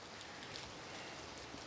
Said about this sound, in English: the rain just pours through the gaps in the solar panels